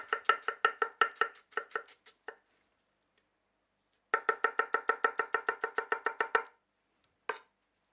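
Rapid, even knife strokes chop onions into half-moons on a cutting board in two long runs separated by a pause, followed by a couple of final chops.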